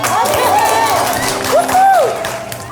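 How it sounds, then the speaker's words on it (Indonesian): A studio audience claps and cheers loudly, the crowd noise staying dense throughout, with a voice calling out tonal shouts over it. "Waktu dan tempat kita kasih tepuk tangannya."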